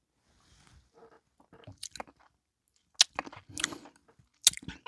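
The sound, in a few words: chewing while tasting bourbon whiskey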